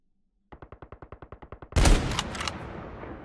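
An LW3 Tundra sniper rifle fires in COD Mobile: a steady run of about a dozen evenly spaced mechanical clicks, then one loud, sharp, close shot with a booming, ringing tail that fades away.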